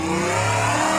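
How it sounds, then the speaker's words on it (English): A car engine in a rock crawling video game sustains a steady, loud mid-pitched drone as it revs, with no talk over it. "Can you guys hear the car?"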